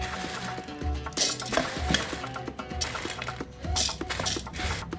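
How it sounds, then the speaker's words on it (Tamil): A mixer grinder jar pulverizes dry chana dal into powder, giving a loud, gritty whirring rattle that surges and dips in bursts, close up and with no talking. "இதை வந்து பருப்பை நல்லா அரைச்சி எடுத்துக்குவோம்"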